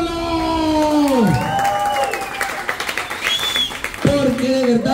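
An audience applauds and cheers loudly at a singing competition final, claps and whoops swelling together, with a voice sliding across the noise and a second loud shout near the end.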